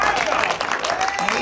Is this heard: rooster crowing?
no